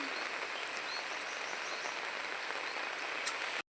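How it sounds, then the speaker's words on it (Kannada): Heavy rain falls in a village during the rainy season, a steady, even hiss throughout that ends abruptly. "ಈಗ ಪುನಃ ಜೋರು ಮಳೆ ಬರಲಿಕ್ಕೆ ಸ್ಟಾರ್ಟ್ ಆಯ್ತಾಯ್ತಾ."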